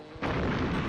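Gunfire in the Donkey Kong 64 video game: a sudden loud booming blast after a brief quieter lead-in, then a dense sustained burst of shots filling the rest of the moment.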